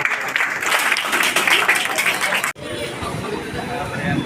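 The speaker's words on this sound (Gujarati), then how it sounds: "તાળીઓથી સન્માનિત કરશું।" An audience claps for a college prize winner in the arts category, a dense, fairly loud round of applause mixed with crowd murmur, which breaks off sharply and gives way to quieter room chatter.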